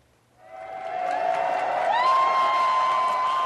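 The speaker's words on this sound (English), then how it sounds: "Big cheers from the big crowds" Big crowds in Toronto cheer for the visiting Queen. The sound swells from near silence into a sustained, distant roar, with a high whistle-like tone riding on top.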